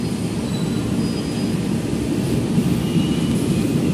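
A commuter train departs Jatinegara station, its steady low rumble of rolling rail cars filling the whole stretch at close range with no voices.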